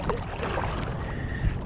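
Kayak paddle strokes on open sea during a sheepshead fishing trip, a steady wash of water and wind with soft splashes, close to the boat and with no voices.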